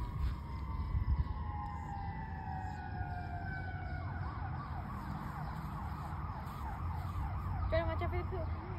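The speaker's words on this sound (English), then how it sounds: "I hear sirens." Emergency vehicle sirens wail steadily from a distance outdoors, with a rising and falling tone and a fast warbling pattern over low background rumble, accompanied by faint voices.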